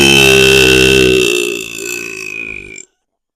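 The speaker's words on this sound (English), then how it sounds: "That's probably my biggest burp of all time, and I got it on microphone." A single long, loud burp, deep and strongly voiced, rolling for nearly three seconds before trailing off into silence, with no talking alongside.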